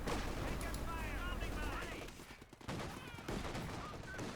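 Tank gunfire and artillery bursts in the video game Company of Heroes 2 form a loud, dense fusillade of overlapping blasts that eases briefly midway before resuming, with a voice talking over the battle.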